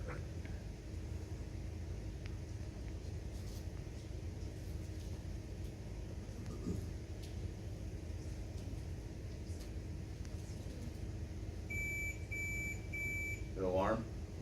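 An electrosurgery unit alarm gives three short, evenly spaced electronic beeps near the end, faint against a low room rumble in a quiet clinical setting.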